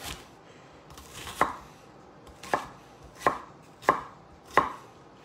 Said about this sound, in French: on va couper comme ça un petit peu